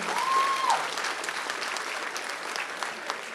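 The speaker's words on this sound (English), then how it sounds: "Let us give them a huge round of applause." A burst of applause from an audience after a children's performance, fairly faint and sustained clapping throughout, with a brief voice near the start.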